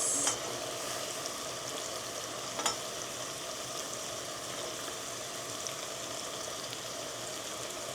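Green peas go into a hot frying pan and give off a steady, moderate sizzle with soft crackling throughout, with no talk.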